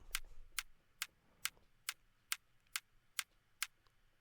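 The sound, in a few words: clicky top kick drum sample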